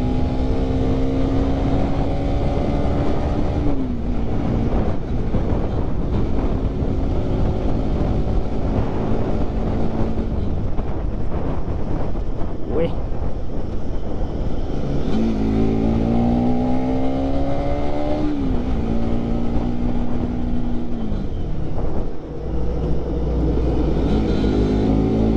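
A motorcycle on a road during a Tihar festival ride, its engine droning loudly and steadily close by, pitch rising and falling as it shifts through gears, with constant wind rush and no talk.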